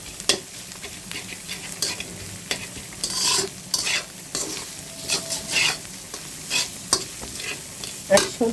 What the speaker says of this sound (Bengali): এখন আমি সবকিছু একসাথে ভাজি করে নেব।